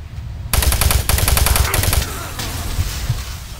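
A machine gun firing in the video game Doom 3, loud close rapid bursts of rattling shots that start suddenly, pause briefly, then fade into echoing impacts, no talking.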